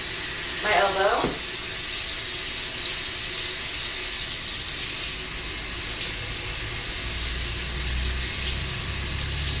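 Tap water runs steadily into a sink as arms are rinsed during a surgical hand scrub, a constant hiss that continues throughout, with a brief sharp squeak near the start.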